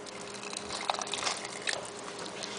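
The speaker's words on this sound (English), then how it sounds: "So our stock pot has been simmering for about 40 minutes or so" A brown stock of vegetables and water simmers in a stock pot, giving a soft, steady bubbling hiss with scattered small pops, close and fairly quiet.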